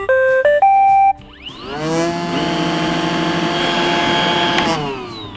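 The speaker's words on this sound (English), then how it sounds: "the Roomba works like this. Sometimes it takes a while to boot up." Roomba robot vacuum powering up: a short series of bright electronic chime tones, then a rising whine as the motor and brushes spin up into a steady, loud mechanical hum that runs to the end, close to the microphone.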